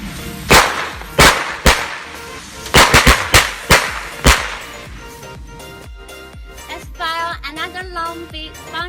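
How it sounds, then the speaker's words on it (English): A small bunch of factory-made firecrackers goes off in a string of sharp, loud cracks, irregularly spaced over several seconds, followed by fainter crackling and a whistling, warbling tail. "This is a small bunch of firecrackers the factory produced."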